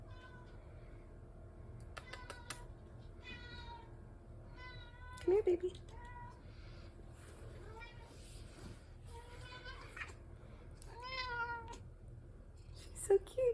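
A pet cat meows repeatedly indoors in short, clear, fairly close calls. A person speaks softly between the meows.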